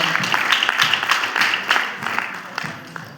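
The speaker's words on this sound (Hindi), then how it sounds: "ताली बजा करके तालियों से सम्मान करिए" A hall full of people at a motivational speech claps steadily together, a dense, even patter of applause that gradually thins out.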